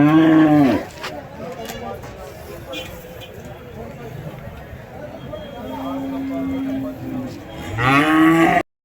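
Cattle and bulls at the busy Kundarapalli cattle market give loud, close moos at the start and end, with longer lowing calls between, while people talk in the background.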